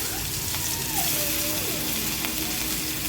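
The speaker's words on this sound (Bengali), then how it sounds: "দেখো আমি একটা একটা করে এবার বড়াগুলো দিয়ে দিচ্ছি।" Sesame fritters dropped one by one into hot oil give a steady, close bubbling sizzle, with a faint tonal whine in the background and no voices.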